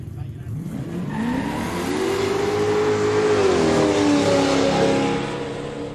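Race cars leave the lanes for a street racing stage at a quick street day in Kooralbyn Valley; an engine revs and rises in pitch, swelling loud nearby before fading slightly, over faint background noise.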